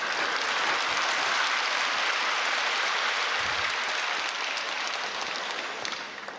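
A congregation claps during a church sermon, with dense, even applause filling the whole stretch and tapering off slightly near the end. No voices rise above it.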